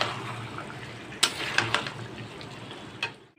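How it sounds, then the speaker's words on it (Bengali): Mutton cooking in a pan for Bengali khasir mangsho, a steady broadband sizzle with a few sharp clinks of a utensil against the pan, close and moderately loud with no talk. "মাংস কষছে"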